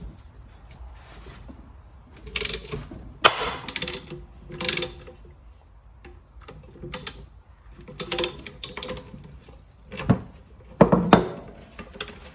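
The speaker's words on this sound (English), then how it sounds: "So we're gonna pull the flywheel off and see what's going on in there." Flywheel being pulled off a 1940 Maytag twin-cylinder engine, with bursts of metallic clinks, ratcheting and clanking tool noise between quiet pauses, close and fairly loud.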